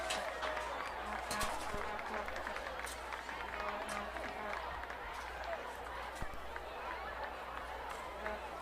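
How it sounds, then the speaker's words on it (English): A crowd at a varsity football game applauds for players, a dense steady wash of clapping and cheering mixed with broad crowd chatter throughout, with a low constant rumble underneath. "A round of applause to Paul players."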